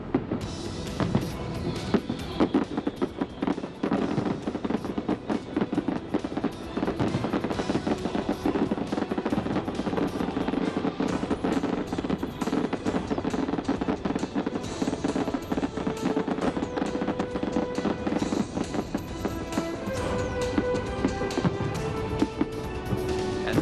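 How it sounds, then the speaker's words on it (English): Fireworks burst in a dense, continuous barrage of booms and crackles before the implosion of the New Frontier tower in Las Vegas, with sharp reports overlapping steadily throughout. "Fireworks are wrapping up as the Frontier Tower nears its final moments."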